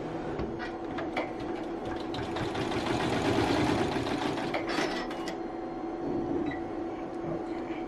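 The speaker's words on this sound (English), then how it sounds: "I'm gonna go ahead and press start, and it's gonna do its next stitch." An embroidery sewing machine stitches a Christmas angel design, a steady rapid mechanical whir and chatter with fast needle clicks, close and continuous, no talk.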